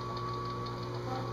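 A DC electric motor drives an engine turning machine, producing a steady, continuous whine with a constant hum for the whole short stretch, close and moderately loud, with no talking.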